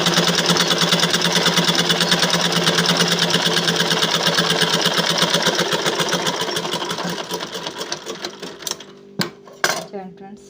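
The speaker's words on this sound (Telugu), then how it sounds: "ఈ క్లాత్ని మనము ఆ పాదం ఎత్తుకొని ఇప్పుడు కుట్టుకున్నట్లయితే చూడండి ఫ్రిల్స్ లాగా వస్తాయి" A sewing machine stitches cloth with the presser foot raised so it gathers into small frills, running white thread. A steady, fast mechanical whirr runs for about eight seconds, then slows and stops, leaving a few scattered clicks and knocks.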